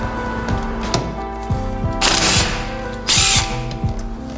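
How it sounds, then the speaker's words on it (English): A ratchet or tool works loose a 16mm nut at the centre of a BMW E46 M3 steering wheel, giving close mechanical clicks and two sharp bursts of grinding noise over a steady hum. "the centre here is a 16mm nut to remove"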